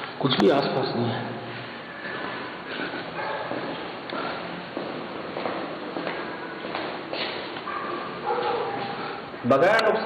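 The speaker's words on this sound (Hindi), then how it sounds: "किसको देख के भौंक रहे हैं?" Dogs barking outdoors at night near trees, sharp yelps and barks scattered through the clip under steady talk, with louder bursts at the start and end.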